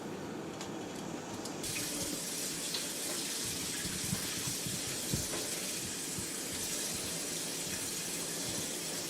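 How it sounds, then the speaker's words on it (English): Cold tap water runs in a steady, full gush, with a slight shift in splashing partway through as noodles are rinsed under the stream. "Now we're going to put the noodles in cold running water."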